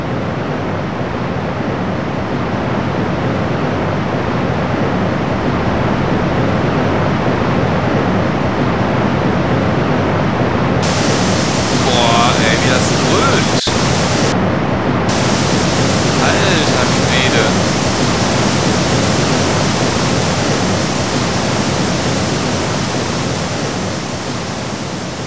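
A waterfall roars in the Gothic 2 video game, a loud, unbroken broadband rush that fills the whole stretch, with a voice briefly speaking over it midway.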